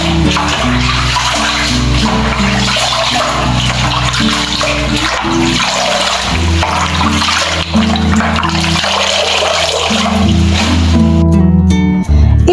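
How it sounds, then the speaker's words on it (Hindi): Running water pours steadily as leafy greens are washed under an open flow outdoors in a mountain village, a loud continuous splashing rush with shifting tones and a brief change near the end. "इस साग को खुले पानी से धुल लिया"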